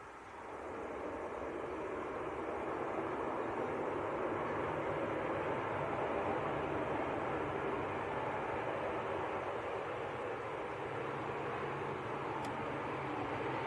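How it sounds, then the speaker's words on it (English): An Aer Lingus ATR 72 turboprop from Belfast passes at Leeds Bradford Airport. It is a faint, distant, steady broadband roar that rises slightly and holds, with no talking. "So that's Aer Lingus from Belfast, ATR 72."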